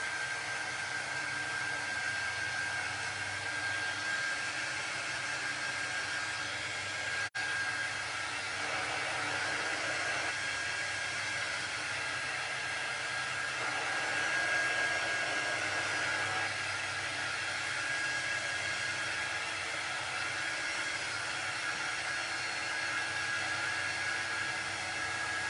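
A hair dryer blowing on a handmade campfire-themed craft, heard as a steady, continuous whooshing roar up close that runs unbroken throughout.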